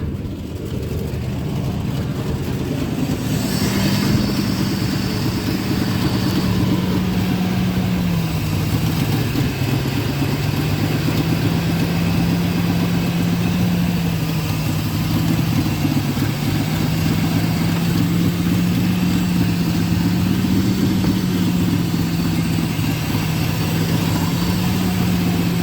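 A 2000 Ford F-150 engine idling after start-up with a troubled, chugging note, a loud steady hum whose pitch gently sags and recovers in slow waves.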